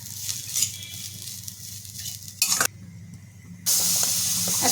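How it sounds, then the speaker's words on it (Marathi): Grated coconut sizzles gently in hot ghee, with soft stirring scrapes and a brief louder hiss midway, then a steady bright sizzle at the end. "कढईमध्ये इथे तूप टाकून घेणार आहे आणि त्याच्यामध्ये एक नारळ मी किसून घेतलेला आहे"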